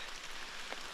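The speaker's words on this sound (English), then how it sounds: "we have our first rain of the day" Light rain patters softly during a mountain hike on the Balsam Mountain Loop, a brief, faint, even hiss with no voices.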